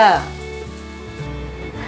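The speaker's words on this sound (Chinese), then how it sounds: "先把这一面煎成金黄色" Loud, close sizzling of food pan-frying golden in a hot pan, a steady crackling hiss that stays even throughout.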